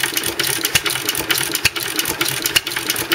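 An old stationary engine with low-tension igniters and a 12-volt ignition runs evenly, giving off a quick, regular ticking and chuffing pulse close up.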